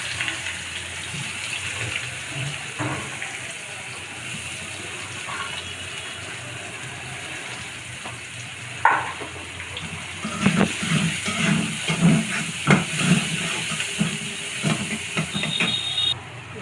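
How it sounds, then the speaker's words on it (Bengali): Raw potatoes tipped into hot oil for a Bengali potato bhaji, a broad hiss at first, then a louder burst of bubbling sizzle with clattering stirs and scrapes close by. "তেলের মধ্যে আমি এখন আলুগুলো ঢেলে দিচ্ছি ভাজির জন্য"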